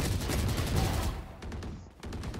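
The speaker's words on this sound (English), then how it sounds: "at least my Phantom is shooting again" Rapid automatic fire from a Phantom rifle in a Valorant deathmatch, loud and continuous bursts of gunshots filling the first second and a half, then a short pause before another burst.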